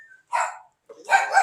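An unfriendly hotel dog barks close by, two sharp bursts separated by a short pause.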